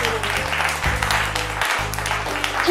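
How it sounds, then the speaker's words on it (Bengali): Loud applause for a team at a family game show, a dense burst of clapping lasting a few seconds with some background voices mixed in. "টিম সির জন্য হয়ে যাবে জোরে হাততালি"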